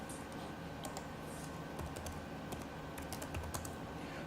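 Quiet, steady typing on a computer keyboard, with rapid light key clicks and a few sharper taps as a shutdown command is entered, heard alone at low level.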